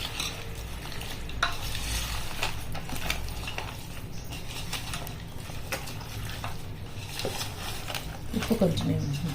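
Chicken biryani ingredients, with fried onions, are stirred in a hot pot, giving a close, constant sizzle broken by spoon scrapes and pot knocks.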